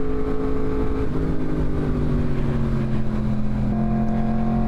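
Car driving along a muddy canyon road, its engine droning steadily at close range with a slight shift in pitch partway through, and no voices.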